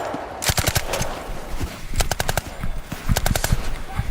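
Rifle and machine gun fire during a military training exercise, with rapid bursts of sharp, loud shots in quick clusters, some close and some further off, with no talk.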